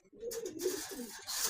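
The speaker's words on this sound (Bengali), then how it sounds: "এই যে এখানে এক জোড়া রানিং ময়ূর কবুতর, অনেক সুন্দর দেখার মতন।" A pair of running peacock pigeons giving soft, low rolling coos, two or three close calls in quick succession.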